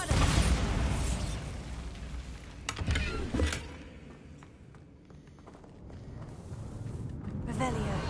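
Bombarda spell blasts in Hogwarts Legacy, a loud opening burst followed by a couple of sharp crackling booms around the middle, fading into a quieter, rustling stretch before noise swells again.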